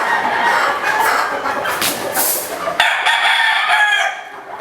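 Dan Gray round head gamefowl roosters crowing loudly and close by, several overlapping cock-a-doodle-doos with scattered clucks from a breeding flock, no voices.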